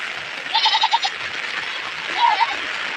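Goats bleat twice on a cold, rainy morning, a wavering cry early and another shorter one later, heard over a steady background hiss.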